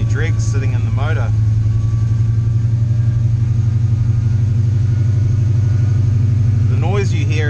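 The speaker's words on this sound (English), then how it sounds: "The noise you hear is the power steering pump is running a little bit dry because the rack has" The idling engine of a CF Bedford restomod gives off a steady, loud, close rumble while its power steering pump, running low on fluid because of a leaking rack, adds a faint constant whine. Brief voices come in at the start and end.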